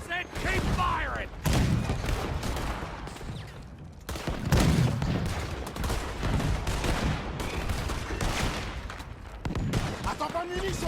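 Cannon and rifle fire during a boat battle in Red Dead Redemption 2: rapid bursts of shots and heavy booms come in irregular volleys, with shouted voices in between.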